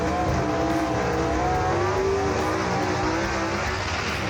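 Loud, continuous engine roar from drag racing gasser cars at the strip, among them a 1957 Chevy Nomad, a steady wall of exhaust noise with a rising engine tone.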